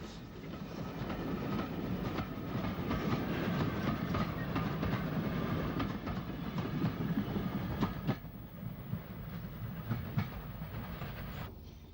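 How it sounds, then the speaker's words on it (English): A train rumbles past on an Isle of Wight railway line heading towards Ryde, with steady clickety-clack of wheels over rail joints, loud and close, easing off toward the end. "as a train heads towards Ryde"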